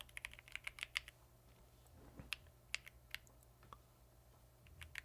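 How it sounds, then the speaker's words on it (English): Quiet, scattered clicks of someone typing on a computer keyboard while solving a coding practice problem, irregular keystrokes in short bursts over a low steady hum. "What am I typing, man?"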